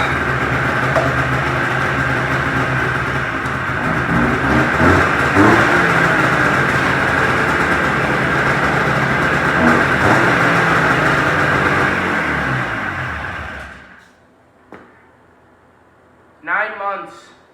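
A Yamaha Enticer snowmobile engine left sitting about nine months, run loud and steady with revving after a choke start for roughly fourteen seconds, then cutting off into quiet, with a couple of short sounds near the end.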